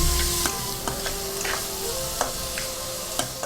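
Onion frying gently in butter for a Russian-style pumpkin-sauce spaghetti, with a steady soft sizzle and periodic scrapes of stirring; no talk.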